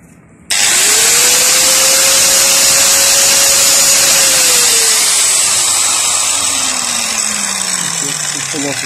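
An angle grinder fitted with a small disc spins up sharply and holds a loud, high whine while cutting a starter housing, with the pitch slowly sagging under load near the end.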